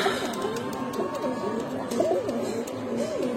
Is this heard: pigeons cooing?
yes